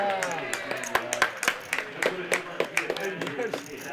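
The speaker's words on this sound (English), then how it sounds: "I get to clap like it just happened just now with all of you" Several people clap in a quick, uneven patter of sharp hand claps at a poker cash game table, close and moderately loud, with voices talking underneath.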